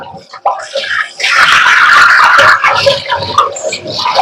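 Water splashing and gushing over a cooking vessel as it is rinsed clean before being oiled. The close, loud rush swells in the middle and then breaks into smaller splashes, with a faint voice in the background.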